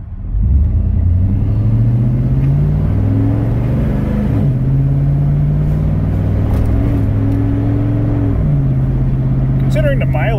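A vehicle with a noisy 5.3 engine, hot and recently given an oil change, accelerating down a road, its steady loud droning rumble rising through gear shifts, with a voice talking briefly near the end.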